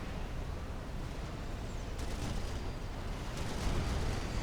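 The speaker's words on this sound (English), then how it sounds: "Another missile incoming." An incoming missile in the Forged Alliance Forever strategy game: a dense, rumbling roar of battle noise with scattered sharp bursts, growing slightly louder toward the end.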